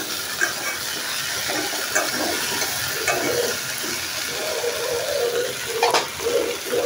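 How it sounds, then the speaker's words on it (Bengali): Okra frying in an open pan, a continuous hiss with soft crackle and a few louder bursts of sizzle, close by and alone without speech. "এখানে ভেন্ডি ভাজি বসায় দিচ্ছি।"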